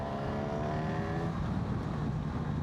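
A Honda CB1000GT motorcycle accelerating to overtake, its engine note rising steadily in pitch under a constant rush of wind, close and loud throughout, with no speech.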